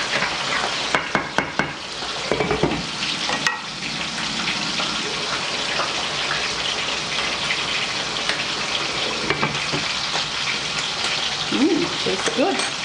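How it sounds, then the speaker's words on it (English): Fish fries in a pan on the stove alongside squash boiling in a pot, a steady sizzle and bubbling wash with a few sharp clinks of a utensil, and a person speaking briefly over it. "So now the fish is still cooking. So now the squash is boiling."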